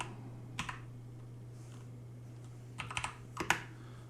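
A few keystrokes on a computer keyboard, entering a sudo systemctl command in a Linux terminal: a brief double tap, then a quicker cluster of clicks near the end, over a steady low electrical hum.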